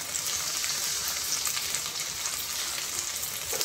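Ginger frying in a pan with tomato, onion and garlic, a steady, even hiss of sizzling oil with light crackle throughout, moderately quiet and without voices.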